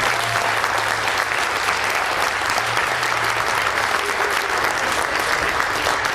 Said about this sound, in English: I want you to give him a round of applause for that